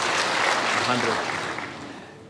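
A church congregation claps in AIPCA Town Cathedral in Thika, a dense, steady wash of applause that slowly tapers, with voices mixed in underneath.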